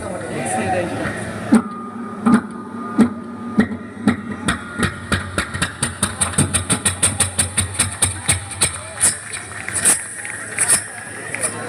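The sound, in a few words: generator engine attempting to start, misfiring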